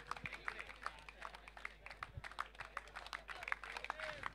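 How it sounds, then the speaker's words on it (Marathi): Audience applause for the Desert 11 team at an HPL 2024 prize ceremony: a steady patter of many hands clapping, moderately distant, continuing throughout with light crowd noise and no clear voice on top. "जोरदार टाळ्या होऊन जाऊ द्या डेझर्ट 11 या संघासाठी"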